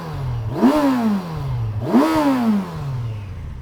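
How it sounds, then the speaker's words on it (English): Two strong revs from a 2024 Kawasaki Versys 1000 S motorcycle engine, each rising sharply from a steady idle then falling back, loud and close with no talking. "Let's have a little listen to the Versys 1000 one last time today."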